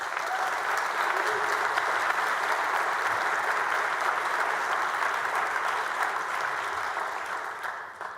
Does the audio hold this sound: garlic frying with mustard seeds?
no